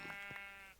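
A sheep in the video game Minecraft gives one short, clear bleat with a tonal, wavering sound. It is faint and alone, and no one speaks over it.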